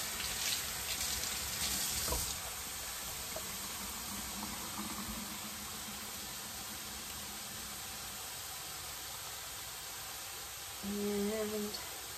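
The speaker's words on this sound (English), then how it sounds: "Actually, that needs one more quick rinse." Tap water runs steadily into a sink while fresh sage is rinsed for a Thanksgiving dinner, a continuous hiss with a brief splash early on and a faint hum near the end.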